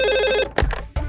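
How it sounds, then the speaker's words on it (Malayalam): A telephone rings loudly and close by, one trilling electronic ring burst followed by short broken bursts, with no talk over it. "ഫോൺ എടുക്ക."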